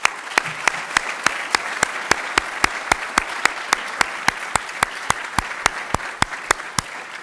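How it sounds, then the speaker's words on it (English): Steady, regularly paced clapping, close and distinct, from an audience applauding the teams at a university demo day event, with no talk over it. "I'd like everyone to give a round of applause to the teams"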